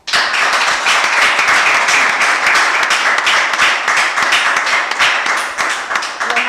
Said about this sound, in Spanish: Los aplausos lo dicen